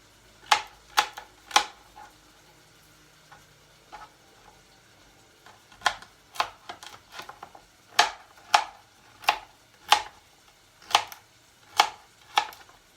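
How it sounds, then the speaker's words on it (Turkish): A knife cuts a carrot into cubes on a cutting board, giving sharp, close chops in irregular bursts with brief pauses between them, set against a quiet kitchen. "Havucumu da yine küp küp doğrayacağım şöyle."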